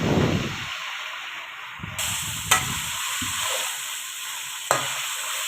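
Mutton frying in a karahi for mutton karahi, a steady hissing sizzle with intermittent stirring scrapes and a couple of sharp utensil knocks against the pan.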